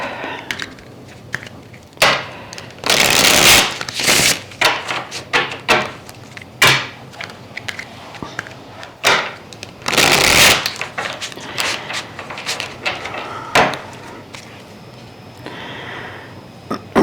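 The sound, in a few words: shuffling a deck of tarot cards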